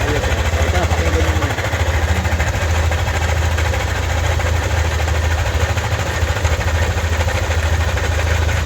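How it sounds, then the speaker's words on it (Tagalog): A Yamaha NMAX scooter engine with a noisy, helicopter-like sound idles close by, a loud steady rumbling putter with a slight rhythmic knock that continues throughout. "So ito yung tunog ng makina kanina"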